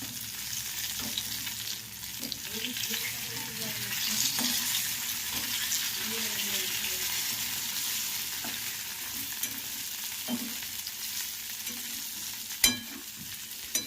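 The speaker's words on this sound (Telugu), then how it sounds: "సో ఇలా మధ్యకి 2 ముక్కలు కోసుకొని వేయించుకోవాలన్నమాట" Pieces frying in hot oil, cut in half and browned, giving a steady, close sizzle throughout with occasional stirring clinks and a sharp tap near the end; no one speaks.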